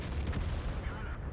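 Tank cannon fire in the video game World of Tanks, heavy booming shots in quick succession packed into a short dense burst of game audio.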